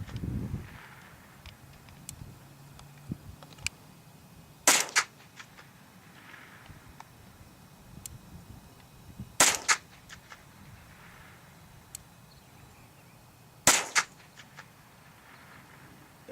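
Three sharp .22 LR rifle shots fired at a half-inch pine board 450 yards out, spaced about four to five seconds apart, each a loud crisp crack over a low steady outdoor background.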